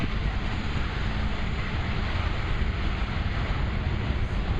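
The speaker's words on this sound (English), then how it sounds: "There are the engine thrust reversers being deployed." Boeing C-17 military transport aircraft landing at an airshow with engine thrust reversers deployed, a loud sustained broadband roar with wind buffeting, steady throughout.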